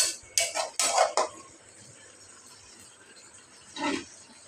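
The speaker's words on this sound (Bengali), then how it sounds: "এখন আমি কিছুক্ষণের জন্য ঢাকনা দিয়ে দিব।" A metal lid set onto a cooking pan of carp with bean seeds and greens: a cluster of close clinks and clatters in the first second, then quiet, then one softer knock.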